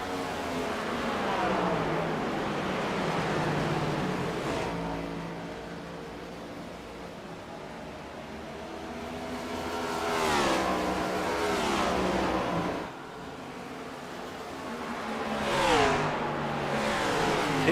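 Race car engines in a sim racing video game at Phoenix, with revving and shifting engine tones rising and falling as cars battle for the lead, loud and continuous with repeated upshift sweeps.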